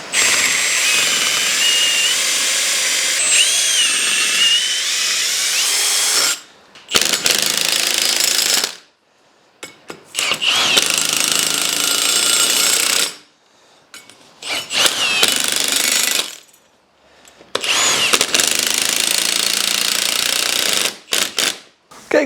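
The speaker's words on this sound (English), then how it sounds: "I'm just going to drill a couple of holes at an angle here and drive these in" A power drill bores angled holes and drives long coach bolts into a wooden anvil stand, loud grinding bursts of several seconds each, separated by short silent pauses, close up.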